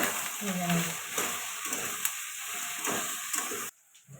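Soybean chunks frying with turmeric and salt, a steady bright sizzle with repeated scraping stirs, close and even, a faint voice-like tone early on, ending in a sudden drop to quiet.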